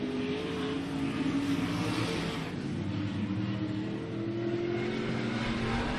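Race cars drive into turns one and two on a track, a steady, blended engine roar of several cars at moderate distance, holding level without distinct passes.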